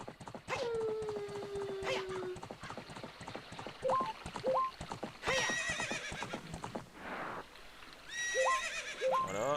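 Epona the pony from Zelda Ocarina of Time gives several sharp neighs and whinnies over steady galloping hoofbeats, with short game chimes between.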